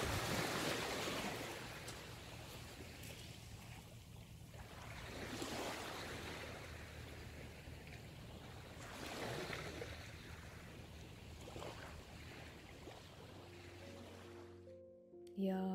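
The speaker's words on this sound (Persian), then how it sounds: "یا صدای موجای دریا" Rolling surf washes in broad, rising and falling swells, with a steady low rumble underneath; a soft tonal hum enters near the very end.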